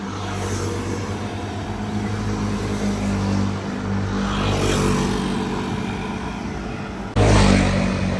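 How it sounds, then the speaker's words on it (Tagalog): Fast cars speed past on a road in a steady stream of engine and tire roar with a low droning hum beneath. The noise swells and fades gently, then a nearer vehicle surges in loudly at the end. "mabilis ng mga sasakyan dito"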